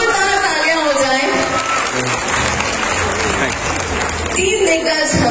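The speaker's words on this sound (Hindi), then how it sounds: "सारे जोरदार तालियां हो जाए" Loud, sustained applause from a large outdoor festival audience at an evening event in Kanpur Dehat, a thick roar of clapping from many hands with a speaking voice over it.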